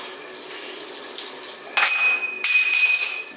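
A hotel bathroom shower in Bali runs with a hissing spray that jumps louder in two sudden bursts, with metallic clinks and a bright tonal ring as the fixture is handled.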